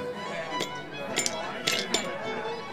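Glasses and ice clink sharply several times while a gin cocktail with vermouth, lemon and ice is mixed, over steady background noise.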